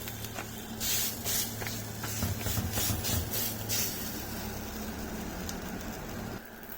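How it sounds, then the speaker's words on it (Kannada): Vadappi batter poured onto an oiled griddle, a faint steady hiss of sizzling oil with a few brief louder bursts early on over a low background hum. "ಸ್ವಲ್ಪ ಕಾವಲಿಗೆ ಎಣ್ಣೆ ಹಚ್ಚಿ ಮತ್ತು ಇದನ್ನು ಹಾಕಿ."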